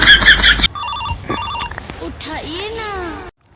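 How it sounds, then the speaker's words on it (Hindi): A mobile phone rings loudly with a repeating electronic tone, close by, with people talking and other tonal sounds following. "अरे ना रे तुहार मोबाइल बाजता"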